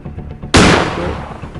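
A single sharp gunshot from the horror game Granny cracks loudly and close, followed by a short decaying echo, after a stretch of low background noise.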